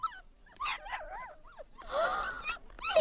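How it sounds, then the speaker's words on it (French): Puppies whimper and yip in a cartoon, with a string of high, wavering whines and short squeaky yelps close by, coming in several bursts with no speech over them. "Les chiots!"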